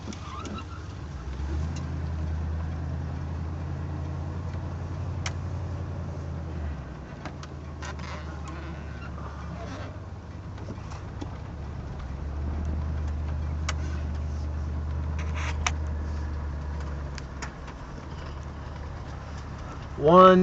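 A 1973 Pontiac Catalina engine idles after a cold start, a steady low rumble that holds for the whole stretch, surging slightly at moments, with a brief louder burst at the end.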